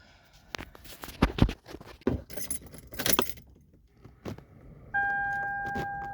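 Car key jangling and turning in the ignition of a 2008 Lexus RX350, a run of close metallic clinks and rattles followed by a steady electronic chime tone as the ignition switches on.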